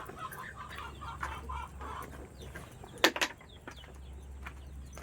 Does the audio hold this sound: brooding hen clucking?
yes